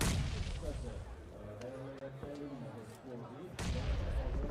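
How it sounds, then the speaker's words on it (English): Artillery bombardment in PUBG Mobile during an esports match, heavy booming blasts hitting at the start, around the middle and again near the end, with a caster talking over the rumble. "Bombardment to Reject."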